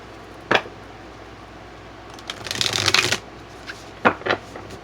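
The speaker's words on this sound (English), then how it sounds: "Alright, so let me shuffle this again." Tarot cards being shuffled nearby: a single riffle, then a longer flurry of shuffling, followed by a few quick flicks.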